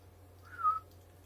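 A single short, faint whistle blast comes from a whistle in an IFAK first-aid kit, rising briefly and fading within about a second against low background hum.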